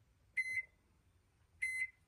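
Two electronic beeps from a microwave oven keypad as it is set to 30 seconds, each a steady tonal chirp about a quarter second long, spaced over a second apart, close and clear over a quiet room.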